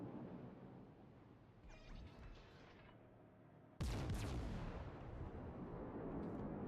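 Heavy battleship main-battery guns fire in a naval video game: a lighter rumble, then a sudden loud broadband blast at mid-clip that rolls on as a sustained roar.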